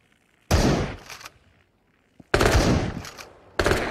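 Gunfire from the VR shooter Into the Radius: three sharp, loud shots spaced about a second apart, each with a short decaying tail, near and alone with no talk.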